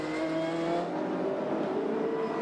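Touring race cars, including a Winfield Nissan, run side by side at an Australian Touring Car Championship round at Amaroo Park, engines roaring loudly and steadily with a sustained high whine throughout.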